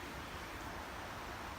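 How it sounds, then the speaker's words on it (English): A creek runs along an Alabama forest trail campsite, giving a steady, even rush of water that stays constant without a break. "You can hear the creek running, very peaceful"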